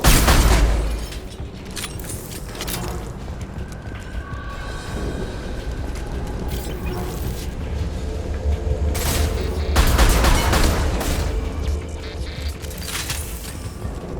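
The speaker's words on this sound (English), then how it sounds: "Firing a high impact shot." Gunfire and explosions in a Mass Effect Legendary Edition firefight, heavy booms and bursts of weapon fire rumbling over a continuous battle din, loud and close.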